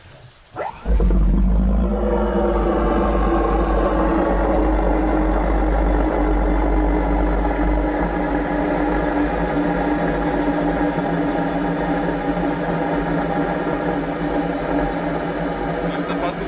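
A Soviet artillery tractor's engine cranks briefly, then catches in freezing weather and settles into a loud, steady low idle with a droning hum that runs uninterrupted to the end.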